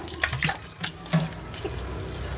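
Water poured from a container into flour to make a batter for motichoor laddu, heard as a few short splashy pours near the microphone, then a quieter trickle, with no talking.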